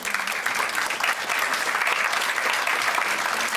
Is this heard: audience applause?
yes